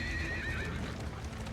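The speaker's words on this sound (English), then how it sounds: "Stop whipping the horses." Horses neigh with a high wavering whinny over steady clopping hooves and coach rumble in Darkest Dungeon II, the game's horse-drawn coach sounds loud and close, with no talking.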